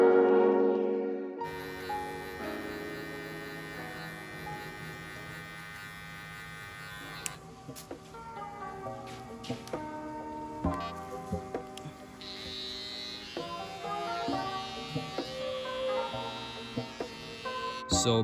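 An electric hair clipper fitted with a number 1 guard cuts hair during a barbershop fade, giving a steady close buzz with a mains-like hum that runs throughout, rising and dipping slightly as it passes over the head.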